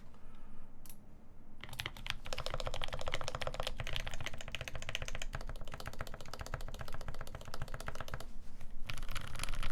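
Fast, steady typing clatters on a mechanical keyboard with a brass plate, with dense, continuous key clicks close to the microphone after a brief quieter start.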